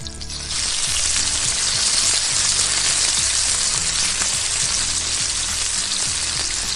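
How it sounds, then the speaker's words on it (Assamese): Taro chunks fry with onions in a hot pan while being stirred, giving a loud, steady, close sizzle that runs without a break from just after the start. "কচুখিনি অকণমান সময় লৈ লৰাই লৈছোঁ, লৰাই পেলাই ভাজি ল'ম কচুখিনি পিঁয়াজখিনিৰ লগত"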